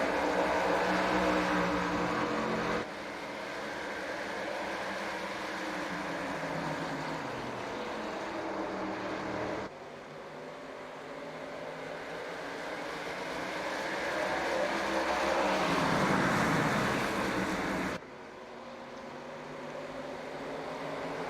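Stock trucks in the iRacing video game at Richmond surge to the green flag, a massed engine roar that climbs in pitch in repeated waves, each cutting off abruptly before building again.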